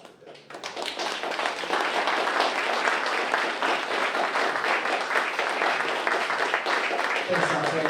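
An audience at a Philadelphia Bail Fund talk event breaks into applause, a dense wash of clapping that swells within the first second and holds steady and full until the end.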